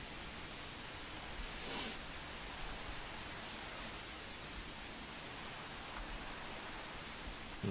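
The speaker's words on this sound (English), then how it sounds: "It's just rain and it's being annoying." Steady rain falls in Minecraft, a constant soft hiss of even, unbroken static that holds at a low level throughout with no voices.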